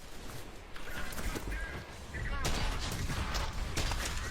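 Enemy shotgun fire in a shooter video game: several sharp blasts spread through a busy, cluttered stretch of game noise, the later ones louder and harsher.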